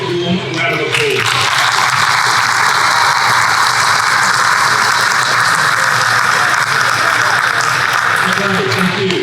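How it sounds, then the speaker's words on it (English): Audience applause at a school orientation night for senior campus year advisors, a steady wash of clapping that fills the room loudly and evenly for most of the stretch. "Can you give your year advisors a big warm round of applause?"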